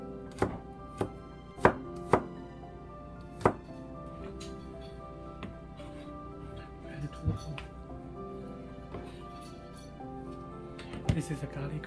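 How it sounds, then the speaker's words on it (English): A knife chops ingredients for a chicken, potato, celery and carrot stew: a few sharp cutting strikes, some in quick pairs, over a quiet kitchen background. "now we just slice it"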